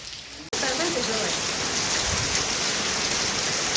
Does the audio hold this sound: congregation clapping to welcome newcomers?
no